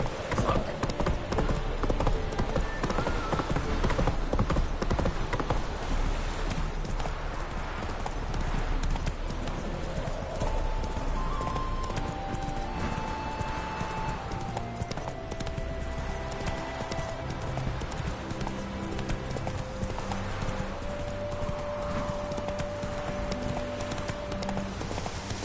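Roach, a horse in The Witcher 3 video game, gallops with steady, loud clip-clop hoofbeats throughout, mixed with game music and occasional whinnies.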